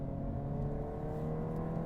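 A 2022 Honda Civic Si with a higher-airflow exhaust accelerates, its engine and exhaust droning in a steady, throaty tone heard from inside the car at moderate loudness.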